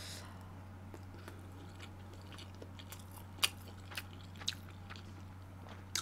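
Homemade braised short ribs and rolled omelette being chewed close to the mic, soft moist mastication with a few sharp crunchy bites standing out over a low steady hum.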